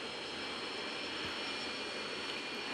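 Steady broadband roar of an airliner's engines while taxiing toward the far end of the runway, a continuous even drone heard close from inside the aircraft with no talk.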